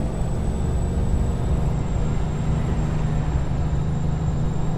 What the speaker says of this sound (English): you can hear the traffic whizzing by underneath the bridge